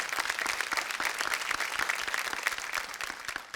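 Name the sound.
audience applause at film festival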